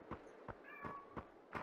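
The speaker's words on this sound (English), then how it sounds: "Shut up, cat." A house cat meows repeatedly, about five short cries at a steady rhythm, fairly close and clear over low background noise during a VR shooter game session.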